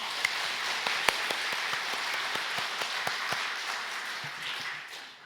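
A church congregation claps together in praise during a worship service, a steady, dense wash of applause with a few sharper single claps standing out, sustained for several seconds before easing off.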